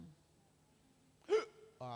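A voice imitates the short hiccup of a person having a heart attack, a single sharp gulping catch that cuts through a quiet room just before speech resumes.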